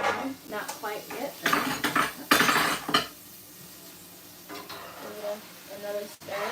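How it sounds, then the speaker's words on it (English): Eggs being scrambled in a pan on a griddle, with repeated scraping and stirring clinks over a soft sizzle, loud bursts early on and quieter stirring later. "You don't have to watch me scrambling the eggs"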